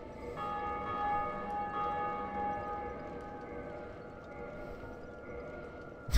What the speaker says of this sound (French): La cloche, elle vient.